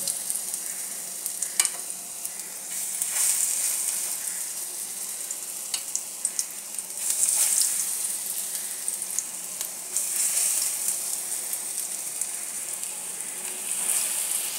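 Pointed gourds (potol) stuffed with lentils fry in hot oil, a continuous close bubbling sizzle with crackling spatters and an occasional soft clink, no voices.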